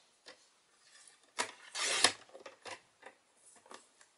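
Whisper White cardstock being cut into strips on a paper trimmer, heard as a few quiet, short scraping swipes with brief pauses between them, close and faint, with no voice.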